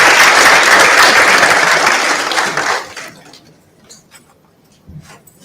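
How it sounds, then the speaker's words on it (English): A loud round of applause from attendees at a research dialogue event on HIV and STIs, steady for about three seconds before dying out into a few scattered claps and quiet. "Shall we welcome her with a round of applause?"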